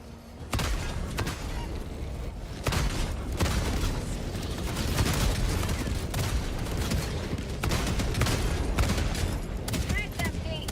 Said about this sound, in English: I don't even know how many shots I need to be able to destroy such a landing craft. But certainly my whole magazine.